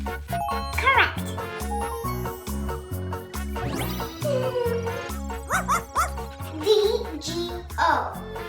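A dog barks a few times against a bouncy children's music track, the barks short and bright, with a voice and chiming jingles mixed in.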